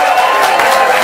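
An audience at a comedy roast event claps and cheers in a steady, dense wash of applause, loud and close, with crowd noise throughout and no single voice standing out.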